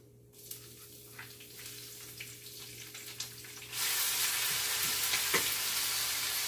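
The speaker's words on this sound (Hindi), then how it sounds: "घी गर्म हो चुकी है, डालेंगे जीरा सरसों" Cumin, mustard seeds and onion hit hot ghee in a kadhai for a dal tadka, first with quiet scattered crackles, then a sudden loud, steady sizzle that fills the second half.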